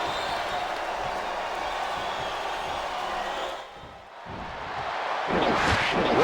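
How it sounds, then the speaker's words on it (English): In the wrestling video game WWE Smackdown vs Raw 2008, an arena crowd roars and chants loudly and continuously, dips briefly to near quiet, then surges back with bursts of noise. "Wow, listen to that chant."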